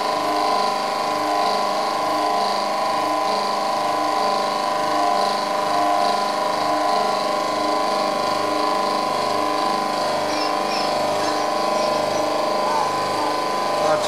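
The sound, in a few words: Albalux washing machine motor running as 450 W generator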